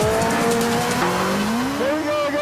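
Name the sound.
Caparo T1 car braking hard, tyres squealing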